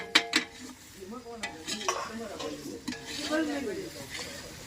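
Onion and green garlic fry in a pan with a soft sizzle while a utensil stirs and scrapes, with a few sharp metallic clinks near the start, close and moderately quiet.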